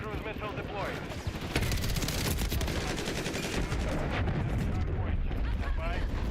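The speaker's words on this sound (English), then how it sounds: "Friendly cruise missile deployed." Heavy explosive rumble and crackling gunfire during a cruise missile strike in Call of Duty Modern Warfare III multiplayer, a dense, loud roar that swells midway and persists, with a voice speaking faintly at the start.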